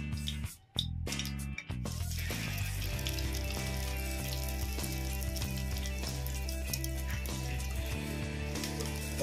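An egg fries in hot mustard oil in a kadai with a steady, close sizzle. After a brief dip near the start, the crackle runs continuously under a low hum.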